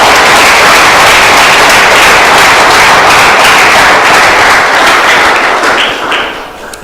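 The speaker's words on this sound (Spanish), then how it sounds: "Démosle un aplauso fuerte al Señor." A church congregation claps loudly in a dense, sustained burst of applause that fills the room, then thins and fades over the last second.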